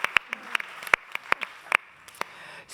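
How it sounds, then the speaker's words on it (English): An audience at a space industry panel gives scattered applause, with sharp, separate claps spread irregularly and fairly faint across the room rather than a dense ovation. "give a round of applause."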